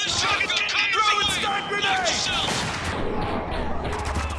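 Gunfire from the video game Spec Ops: The Line, a dense run of shots and bursts over steady battle noise, with voices talking throughout.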